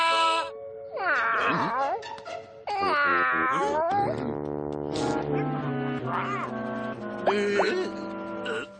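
A cartoon cat yowls and meows in drawn-out, wavering cries mixed with musical tones, loud and close.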